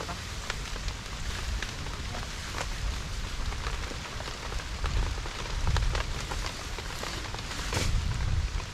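Steady rain drums on a tarpaulin roof as a dense, continuous patter that swells into heavier surges, close and fairly loud with no voices.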